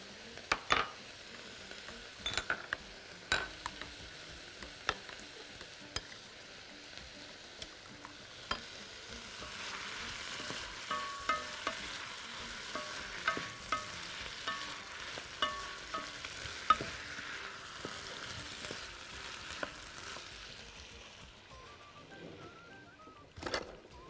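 Seafood and vegetables with ketchup and sweet chili sauce being stirred and fried in a pan, a soft continuous sizzle broken by scattered clinks and scrapes of the utensil against the pan, heard close without talk.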